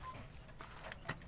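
Chicks and chickens in a farm coop, fed fermented feed, cluck and peep faintly, with a few brief sharper calls breaking through a low, steady background.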